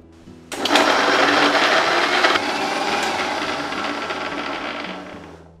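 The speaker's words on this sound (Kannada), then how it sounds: "ಹಸಿ ಶುಂಠಿ ಇದನ್ನು ಮಿಕ್ಸರ್ ಮಾಡ್ಕೋಬೇಕು." A kitchen mixer grinder blends tomatoes, green chillies and fresh ginger, starting abruptly with a loud whirring motor roar that holds steady before easing slightly toward the end, close by and without speech.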